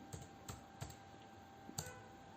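Keys tapped on a computer keyboard while entering text into a spreadsheet cell, a few soft, separate clicks spaced irregularly, close and quiet with no talk.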